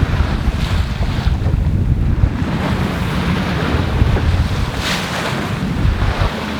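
Strong wind roars across a sailboat anchorage near a harbour mole, loud, constant, with rushing gusts, and waves sloshing underneath.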